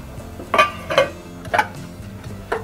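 Steel cooking pots and lids clink as they are handled in a home kitchen: four short, bright metallic knocks at uneven intervals, close and fairly loud, with no talking.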